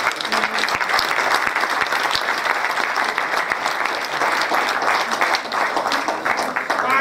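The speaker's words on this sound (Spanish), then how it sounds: "Un fuerte aplauso por favor para él." Dense, sustained applause from an audience at a 2014 tribute concert honoring Arequipa composer Benigno Ballón Farfán, a loud steady wash of many hands clapping throughout with no pause.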